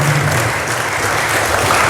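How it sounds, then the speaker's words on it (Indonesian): Applause for a mother named Afifah at a weekly Islamic religious study gathering on ablution, a steady crowd clapping filling the room for a couple of seconds with a low hum beneath. "Tepuk tangan untuk ibunya Afifah."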